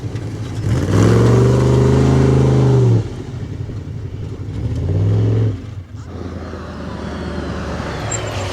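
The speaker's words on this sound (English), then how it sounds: "We got the first trophy truck coming in right now." A desert trophy truck roars past a pit stop in Nevada. Its loud engine drone rises and holds for a few seconds, a second surge follows, and then it fades into wind and background noise.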